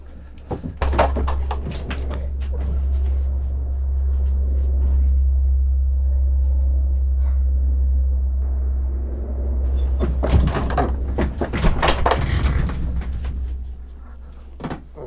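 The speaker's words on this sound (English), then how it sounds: "There goes Chinooks again." Low, steady rumble of Chinook helicopters passing overhead near Portsmouth, a broad droning swell that holds for most of the stretch, with brief clattering knocks early and a burst of sharper bangs toward the end.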